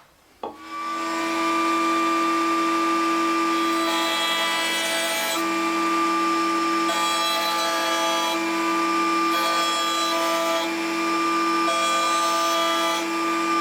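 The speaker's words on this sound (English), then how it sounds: "I have a 1/8 round over installed in the router table. I'm just going to place a round over all the way around the bottom edge" A router table with a 1/8-inch round-over bit cuts the edges of a scrap plywood cup: a sharp start-up, then a steady, loud, high-pitched motor whine that shifts slightly as the wood is fed along.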